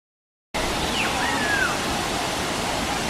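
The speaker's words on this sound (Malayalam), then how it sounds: "നിങ്ങൾ ഈ കണ്ടുകൊണ്ടിരിക്കുന്നത് കേരളമല്ല, സിംഗപ്പൂരിലെ ഒരു വെള്ളച്ചാട്ടം, വാട്ടർഫോളാണ്" Waterfall in Singapore's Jurong Bird Park: a steady, broad wash of falling water fills the scene after a moment of silence, with a faint bird whistle gliding briefly above the roar.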